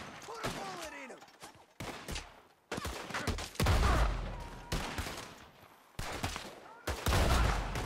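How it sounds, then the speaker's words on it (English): Gunfire from the Red Dead Redemption 2 video game, a loud burst of repeated shots and volleys in several separate bursts, some echoing, with no talk over it. "Put a bullet in him."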